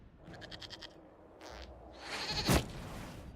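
Goat bleats in the video game Dragon Age: Inquisition, a quavering cry near the start followed by a louder, harsher burst around the middle, over a steady background.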